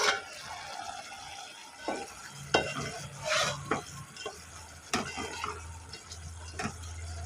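Sweet potato curry being stirred in a pan, a low simmering sizzle under repeated clacks and scrapes of a spoon against the pan at an uneven pace, close and fairly clear.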